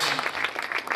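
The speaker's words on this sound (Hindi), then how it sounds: "जोरदार तालियां बजाएंगे सभी जन।" A congregation applauds loudly at a Sunday church meeting: a brief, close burst of dense clapping, with some voices mixed in.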